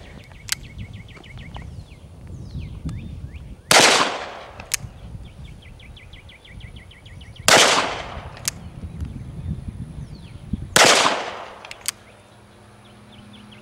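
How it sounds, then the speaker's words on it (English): Three loud, sharp gunshots from a Colt revolver and a Marlin Model 1893 rifle in 38-55 Winchester, spaced about four seconds apart outdoors, each with a ringing tail, amid birdsong and faint background noise. "perhaps the shots from my Colt here would be the warning shots, but the rifle took care of him."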